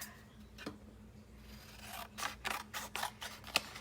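Scissors cut a piece of mixed media craft material in half, with a few quiet snips and crisp slicing strokes close by after a faint rustle, and no talking.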